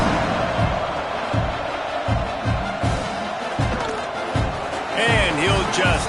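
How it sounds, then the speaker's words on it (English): A stadium crowd at a college football game buzzes after a score and the extra point. The roar is dense and constant under a play-by-play announcer, with rhythmic thumps and chanting swells and a brief whistle-like tone near the end. "this crowd is buzzing after that last score"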